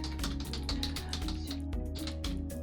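Rapid, irregular clicking of keys on a computer keyboard, close up and continuous, with a faint steady hum in the background and no talk.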